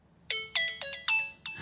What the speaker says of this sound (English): I remember this ringtone constantly going off in class